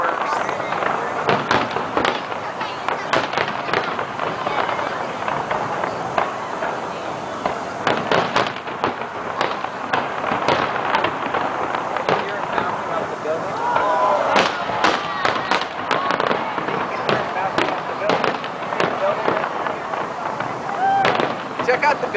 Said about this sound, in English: And you can actually hear the sound reflecting off the building.